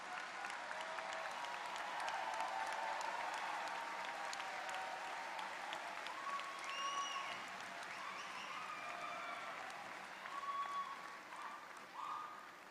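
Long, steady audience applause for rising honor students at an engineering college graduation ceremony, a broad wash of clapping from a large crowd with a few whoops and faint whistles, lasting over twelve seconds.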